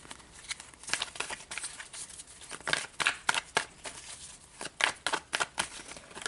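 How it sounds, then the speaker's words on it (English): Tarot cards being shuffled by hand, a soft, papery riffle and slide of the deck in irregular bursts, close and fairly quiet with no talking. "I feel like we need a really good shuffle for some reason."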